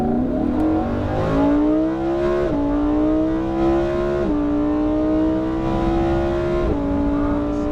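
A Lamborghini Huracan pulls hard on the Portland International Raceway track. The engine note climbs steadily through three gears, with brief dips at each upshift. It sounds loud and close, with no talking.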